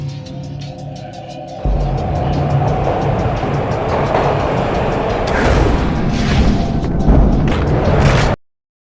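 Train ride in the Max Payne game on PS2: a steady, loud rumble of rolling rail wagons sets in after a quieter opening and runs on with clanks and bursts, then cuts off abruptly near the end.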